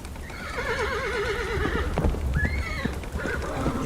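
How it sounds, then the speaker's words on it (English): Horses neighing and whinnying with hoofbeats as a chariot approaches, a sound effect for the chariot of Hades, whinnies layered over a steady rumbling background. "it was the sound of Hades' chariot hurling toward Persephone"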